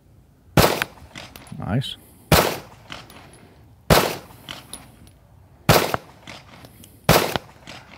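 Handgun shots on a training range: five sharp close cracks spaced about one to one and a half seconds apart in a steady rhythm. Brief speech comes in between shots.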